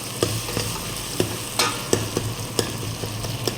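Vegetables fry and sizzle steadily in a pan while a utensil scrapes through them in sharp, regular strokes about every half second.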